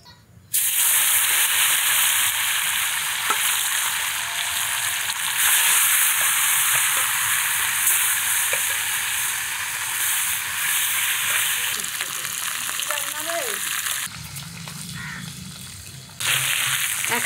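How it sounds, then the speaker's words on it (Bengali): Foli fish pieces fry in hot oil with a loud, steady sizzle that runs almost without pause, briefly dropping near the end as the pieces are handled. "টাকার পিসগুলো ভাজা হয়ে গেছে, নামিয়ে দিই। এখন বাকিগুলো ভাজি।"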